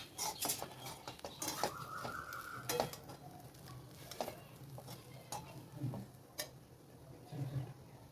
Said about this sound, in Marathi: याला आपण 5 मिनिटं मस्तपैकी असं हलवून घेऊया.